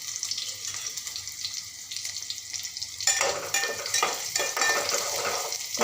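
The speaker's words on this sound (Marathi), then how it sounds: "बारीक चिरलेला कडीपत्तासुद्धा घालत आहे हे सर्व छान असे हलकेसे तांबूस रंग येईपर्यंत फ्राय करून घेते" Chopped onion and curry leaves sizzle steadily in a little oil in a pan, a continuous crackling hiss that grows louder and busier partway through as they are stirred, with no talking.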